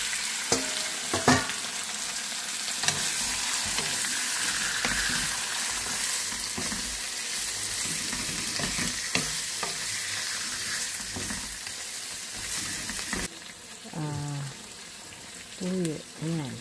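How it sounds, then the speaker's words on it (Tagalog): Garlic sautéing in a hot pan for chicken liver adobo, with a steady broadband sizzle and occasional stirring scrapes throughout, while a voice talks now and then over the cooking. "Ayan, ito na, igigisa na natin."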